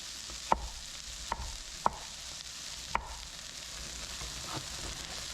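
Coarsely chopped garlic sizzles in a pan over a steady low hiss, punctuated by four sharp utensil clicks against the pan in the first three seconds, and no one speaking.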